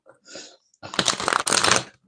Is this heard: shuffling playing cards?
yes